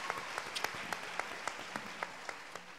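A small audience at a Brazilian women's church gathering claps sparsely, with individual claps ringing out clearly and faintly at a distance for a few seconds.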